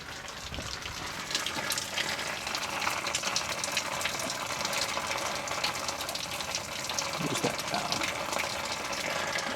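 Coolant pours steadily from a Ford Econoline E350/E450 van into a catch container, a continuous gushing, splashing stream that stays even throughout, moderately faint with no pauses.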